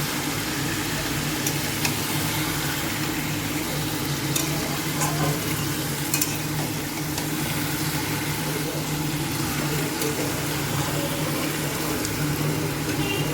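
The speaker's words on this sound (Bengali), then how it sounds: "এইবারে চিকেনটা ভালো করে কষিয়ে নিই" Chicken fries and is stirred in a pan with a continuous broad sizzle, punctuated now and then by light scraping clicks of a spoon against the metal, steady throughout with a low background hum.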